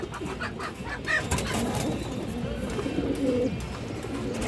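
High flyer Giribaz pigeons coo close by, soft repeated throaty calls over a steady background hum with occasional flutters and light bird noises.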